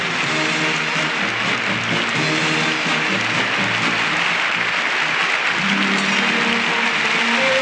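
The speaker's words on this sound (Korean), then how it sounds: "노태우 대통령이 부인과 함께 입장해 만장의 박수를" Stadium crowd applauding as the president enters at the Seoul Olympics opening ceremony: a continuous, massive wash of clapping, with band music playing underneath throughout.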